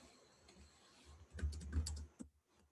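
Someone types on a computer keyboard in a quiet room. Soft, scattered key taps build to a brief flurry of louder clacks near the middle, then fade to near silence.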